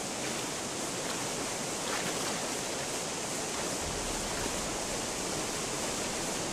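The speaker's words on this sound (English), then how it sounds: "see what's behind the waterfall." A video game waterfall roars as a dense, even hiss of falling water, loud and constant for several seconds with no breaks and no voices.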